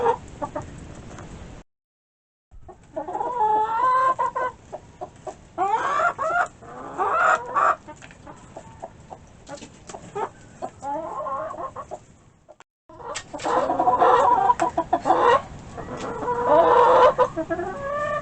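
Hens cluck and murmur close by in a backyard coop, in bursts of varied calls separated by brief silent gaps, with a louder flurry of clucking toward the end.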